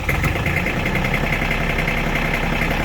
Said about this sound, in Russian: давайте трактор запускать